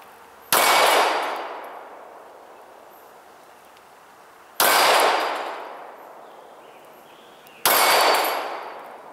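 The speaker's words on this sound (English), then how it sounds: "I'm shooting slowly" Three handgun shots fired slowly at a target on a range, each a sharp, loud crack with a ringing decay, spaced about three to four seconds apart with quiet between.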